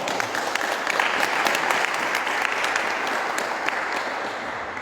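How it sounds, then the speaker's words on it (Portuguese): Steady, dense applause from a congregation at a Catholic service, sustained at even loudness for several seconds with no talk over it. "Uma salva de palmas para a palavra da salvação."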